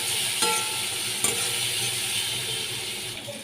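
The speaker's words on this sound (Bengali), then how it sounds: "এর মধ্যে আমি এক চামচ জিরে পাউডার দিয়ে দিলাম ভালো করে কষিয়ে দিচ্ছি" A spoonful of ground cumin sautéing in a hot pan for a cabbage dish, giving a steady, close sizzle with a couple of brief stirring clicks.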